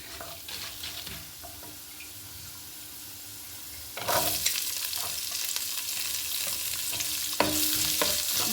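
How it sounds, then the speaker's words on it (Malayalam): Finely chopped onion drops into hot oil with browned chana dal and sizzles, a loud burst of frying near the four-second mark that keeps hissing steadily, with scraping stirs and light clinks, no voices. "നല്ല മൂത്ത് വരുമ്പോഴത്തേക്ക് നമുക്ക് സവാള ചെറുതായിട്ടൊന്ന് അരിഞ്ഞത് അതിലേക്ക് ഇടാം"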